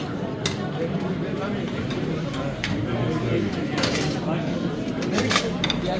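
Cutlery and dishes clink and clatter in a newly opened city restaurant in Sinop, with sharp intermittent knocks over a murmur of people talking nearby.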